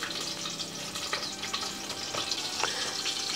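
Stuffed green chillies frying in oil in a pan, a steady close crackling sizzle with scattered sharper pops and light scraping, continuous throughout with no voices.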